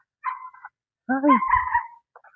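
A dog gives a couple of short whiny yelps and a drawn-out whimpering bark, close by, with brief pauses between the sounds.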